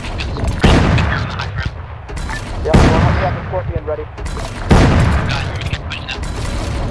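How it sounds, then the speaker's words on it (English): Sniper rifle fire in a military video game, loud sharp reports at about 0.6, 2.8 and 4.7 seconds, each followed by a rolling echo, over steady battle noise with distant gunfire. "There's already a sniper firing, so I'm just adding to the carnage up there"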